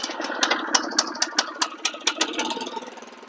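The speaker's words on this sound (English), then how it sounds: "So we'll start her up, switch her on, choke" An SP90 seeder's small engine is started and left idling, producing a rhythmic series of sharp knocking pulses about three per second that gradually soften, close and loud, with no voices.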